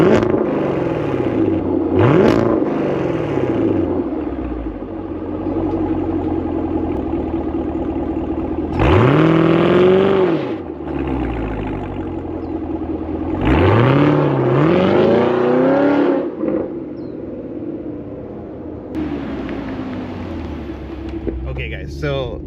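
A Chevrolet Camaro with an LT1 engine, Corsa Extreme exhaust and secondary cats deleted revs loudly in several sharp, close bursts over a steady rumbling idle, with people talking at times.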